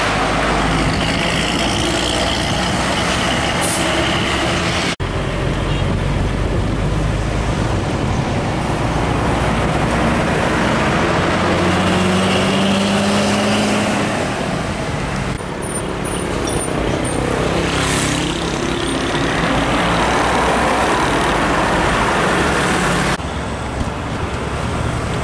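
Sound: old bus passing in road traffic

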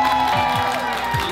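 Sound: crowd applause and cheering at a pyjama party

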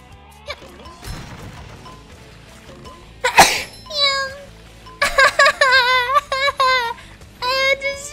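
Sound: loud sneeze

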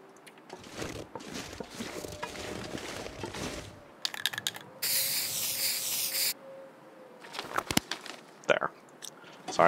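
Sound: spray painting in the video game The Long Dark

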